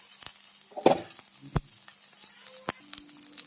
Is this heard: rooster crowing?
no